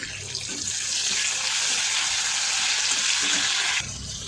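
Tomatoes and salt drop into hot oil in a pan, giving a steady loud close sizzle that holds for several seconds before easing slightly.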